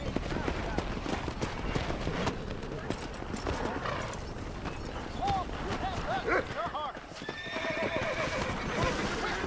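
Horse neighs and whinnies with clip-clopping hooves in the Red Dead Redemption video game, several harmonic calls in the middle and hoof beats running throughout, with game ambience and background voices.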